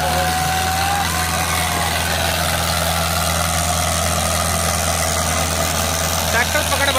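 Eicher 485 and Swaraj 855 tractor engines straining in a tug-of-war contest, a loud, continuous heavy diesel drone with a steady low throb, close by, while someone commentates over it.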